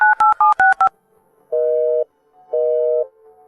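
A phone keypad is dialed with five quick tone beeps, followed by two long, steady electronic tones with pauses between them, with no talking.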